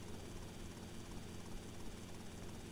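In the GTA Vice City video game, a helicopter's rotor and engine give a continuous, even drone at moderate level, with no voices and no change in pitch.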